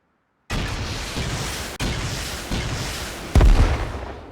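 A rocket blast destroying a turret in Rust, a series of heavy booming explosions with rolling rumble, the last impact loudest, after a moment of silence.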